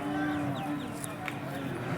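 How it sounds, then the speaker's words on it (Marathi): A racing bull moos at a busy cattle market, a low sustained bellow over steady crowd murmur and background chatter. "शर्यतीला पळवलेला बैल आहे."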